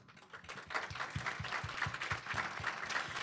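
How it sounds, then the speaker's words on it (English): Audience applause at a Minnesota community gathering of Indigenous and immigrant women and women of color: clapping that builds quickly and settles into a strong, regular rhythm of distinct beats, moderately close and steady until the end. "Can we give them a round of applause?"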